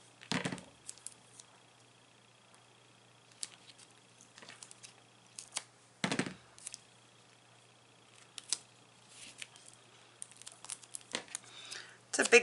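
Foam tape for a scrapbooking layout is pulled and peeled off a large roll, producing sharp crinkling and tearing bursts separated by quiet gaps, close to the ear with a faint background hum.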